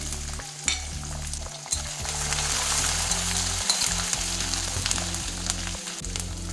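Chopped ginger and 2-3 green chillies sizzle steadily in hot oil with brief stirring scrapes, a close, continuous frying hiss with no talking.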